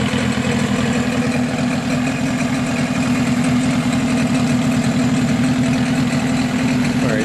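Engine turned down to a slow idle, running rough with a thick exhaust, a steady low rumbling throb that stays even and close throughout with no talk.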